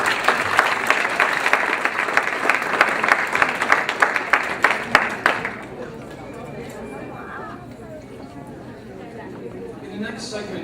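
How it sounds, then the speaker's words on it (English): Guests at a fundraising dinner in a banquet hall clap for about five seconds, a lively burst of applause with sharp individual claps, then it fades into quieter room chatter and movement. "can I get everybody to give a nice round of applause to say Kaouch?"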